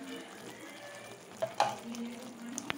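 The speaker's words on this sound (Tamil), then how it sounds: "இதை நல்லா கிளறி கிளறி விட்டுடலாம்" Almond halwa being stirred in ghee in a pan, with a soft continuous sizzle and a few scattered spoon scrapes and clinks against the pan, fairly quiet.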